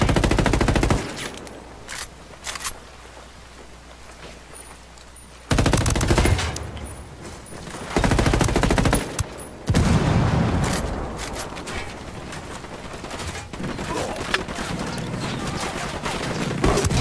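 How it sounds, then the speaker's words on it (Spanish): Machine gun fire in Ghost Recon Wildlands: loud sustained bursts of rapid automatic shots, separated by short quieter gaps, with a long continuous burst toward the end. "Hay una ametralladora"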